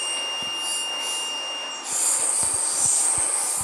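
Minsk metro 81-717 train running between stations, a loud steady rumble and hiss with a few high squealing tones, then a shift to rhythmic clacks of wheels over rail joints.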